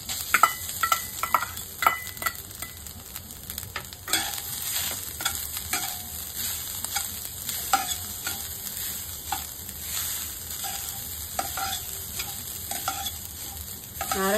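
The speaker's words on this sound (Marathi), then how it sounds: "नारळ चांगला तुपात परतवून घेऊया" Grated coconut sautéed in ghee in a pan for mango coconut barfi, giving a steady soft sizzle with repeated scraping stir strokes, close and continuous, no voices.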